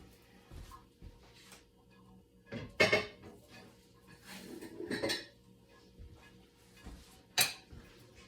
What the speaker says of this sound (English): I'm going to stir them in